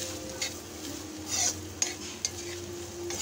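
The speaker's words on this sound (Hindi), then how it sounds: "इसको थोड़ा फ्राई करेंगे।" Vegetables for veg chow mein stir-frying in a hot pan, a steady close sizzle broken by a few scrapes and clinks of a spatula against the metal.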